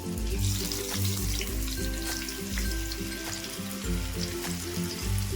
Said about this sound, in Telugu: ఈ చేప ముక్కల్ని మనం ఆయిల్లో ఇలాగే చేసుకోవాలి నూనెలో మనం